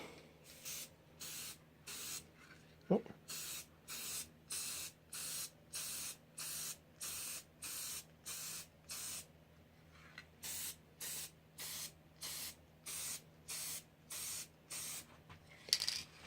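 Repeated short bursts from a spray can coating a wooden cutting board, about twenty even hissing pulses in a steady rhythm with brief gaps, close and moderately loud, plus a couple of faint clicks.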